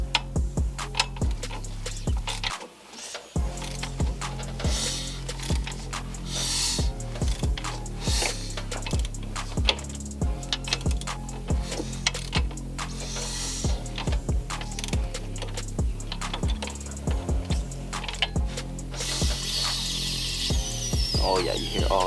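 A Mazdaspeed engine is turned over by hand with a ratchet during head removal, giving steady rhythmic ticking and clicking with air hissing from blow-by, close and continuous.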